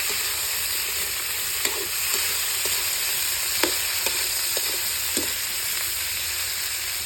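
Tomatoes frying and sizzling in a hot pan alongside crab, a steady close sizzle with occasional sharp stirring clicks and scrapes throughout.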